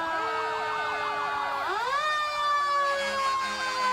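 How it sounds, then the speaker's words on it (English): Several Cumberland Fire Department fire truck sirens wail together, their pitches sweeping up and down and overlapping, loud and steady with a low vehicle rumble beneath, no talking. "here come the fire trucks from the Cumberland Fire Department. Lots of sirens for the kids."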